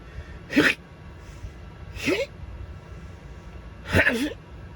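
A person imitates sneezing three times, short breathy bursts spaced a second or two apart, each ending in a squeaky vocal twist.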